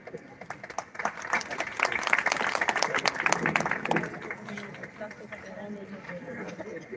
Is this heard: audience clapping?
yes